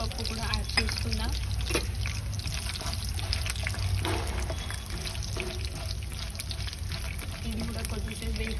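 Urad dal frying in a pan for tomato pachadi crackles and sizzles steadily beneath a person talking.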